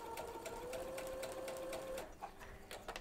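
Sewing machine with a quarter inch foot stitching quilt fabric along an edge, a close, steady mechanical whir with a rapid needle rhythm that briefly slows near the end.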